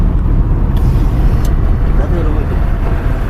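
A car drives across a bridge in heavy rain, with a loud, steady low engine and road rumble and hissing tyre and rain noise throughout, a voice talking over it.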